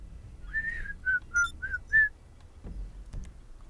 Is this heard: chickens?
no